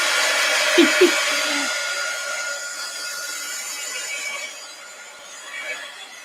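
A hair dryer blows on wet finger-paint dots on an art journal page, a steady close whooshing hum after a couple of soft knocks, easing slightly toward the end.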